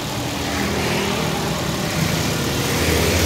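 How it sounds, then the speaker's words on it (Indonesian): A flood-damaged car engine idles evenly right after being restarted, a close, steady mechanical hum with a rough, noisy texture and no voices. "jadi di sini mobil sudah berhasil ya saya nyalakan"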